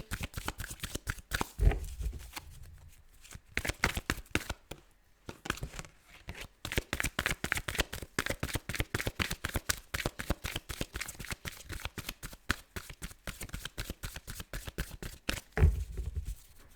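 Tarot cards riffle and snap in rapid, close bursts, a long run of crisp flicks that pauses briefly around the fourth second and then resumes with steady fluttering until the end.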